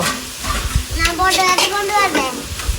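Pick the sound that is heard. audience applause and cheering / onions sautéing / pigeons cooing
onions sautéing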